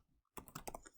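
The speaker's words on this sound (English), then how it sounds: "So typing this answer, simplifying it as I'm typing it" Rapid computer keyboard typing, a fast run of close, crisp key clicks after a brief quiet start, used while entering a logarithmic derivative answer.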